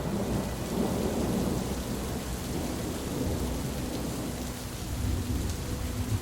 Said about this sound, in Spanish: una fuerte tormenta azotó la isla de Anticitera